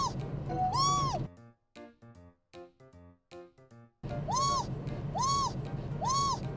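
A voice imitates a small black kitten's meow, several short rising-falling mews in a row, close and clear over steady car-interior road noise, with a quieter stretch of plucked music between them.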